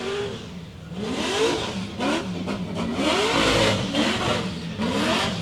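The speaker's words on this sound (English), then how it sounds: "It was big long stabs of the throttle." A drift car's engine at a qualifying session at Meremere Drift Park, loud and close, revving through long sustained throttle stabs with rising and falling pitch and brief lifts between pushes.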